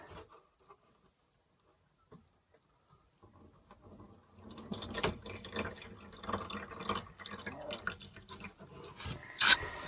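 Water from a cup poured over a transducer mount on a kayak, a steady splashing trickle starting faintly and building for several seconds, close by with no talk.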